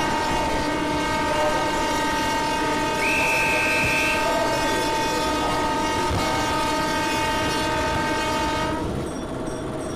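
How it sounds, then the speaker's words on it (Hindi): Mumbai local train horn blasting on a Churchgate to Goregaon slow suburban service, one long steady loud tone held for nearly nine seconds before cutting off, over the rumble of the train. "अब हॉर्न बजा देते हैं।"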